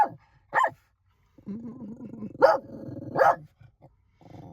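A big black fluffy dog barks protectively at its territory, giving a few sharp, loud barks separated by short pauses over a low, steady background rumble.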